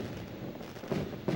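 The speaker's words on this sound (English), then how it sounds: "Okay, what's the fireworks?" Fireworks in the ending of the Super Mario 3D World game burst in a couple of dull booms over a low, rumbling game backdrop, the second pop arriving near the end.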